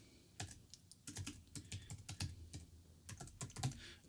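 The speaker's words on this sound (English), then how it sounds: "put in the password" Quiet keyboard typing of a password, a quick irregular run of soft key clicks close up with brief pauses, no talk.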